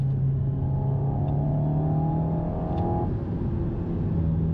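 An Alpine A110 Légende sports car accelerates hard from the cabin, its engine drone climbing steadily in pitch for about three seconds before easing into a lower, even hum, loud and close with no talking.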